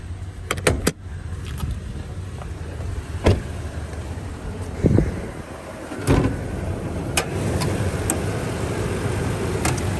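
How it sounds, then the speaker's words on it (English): Someone works the release on a 2015 Toyota Tundra Limited to pop the hood, producing several sharp close clicks and thumps, then a low steady rumble from the truck. No voices are heard. "So we'll go ahead and pop the hood so we can take a look under there."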